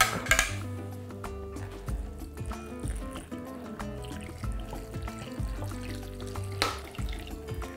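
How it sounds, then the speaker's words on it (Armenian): Chicken broth poured over dolma in a cooking pot, a soft trickling splash close by, mixed with light clinks and knocks of kitchenware; quiet throughout with no voices. "լավ խառնում և լցնում ենք տոլմաների վրա"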